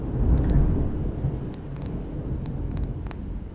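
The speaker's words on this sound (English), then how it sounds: "Get ready for a huge thunder." Deep rolling thunder rumbles loudly and slowly fades while light rain patters and drips throughout.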